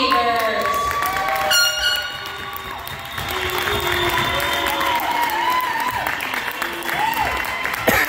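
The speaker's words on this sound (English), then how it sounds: "Let's give a big round of applause to our 14U runner-up," A crowd applauds and cheers for the 14U runner-up hockey team, the Casco Bay Sabres, at a tournament: steady clapping and shouts echoing through a large rink, with tonal whistles or horns and voices mixed in.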